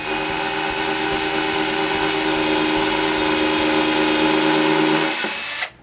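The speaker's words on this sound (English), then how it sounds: "I drill the screw holes that I marked previously" A power drill runs steadily, boring screw holes in varnished plywood for a shoe rack, loud and close for about five seconds before stopping abruptly.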